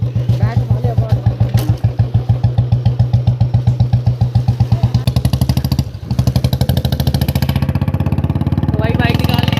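A Royal Enfield Bullet motorcycle with a loud aftermarket exhaust idles up close in a steady, deep thumping beat, then revs louder and faster midway before settling into a rapid throb.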